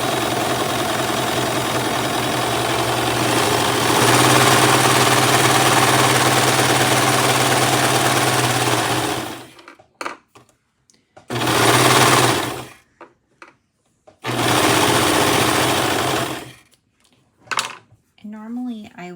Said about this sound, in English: You might have to help it along in the serger a little.